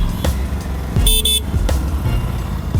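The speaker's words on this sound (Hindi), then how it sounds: "ओह, फर्स्ट टाइम हॉर्न बजाया मैंने बाइक का" Horn of an Aprilia RS 457 motorcycle gives one short, bright double toot over a steady idling engine and road noise, loud and close.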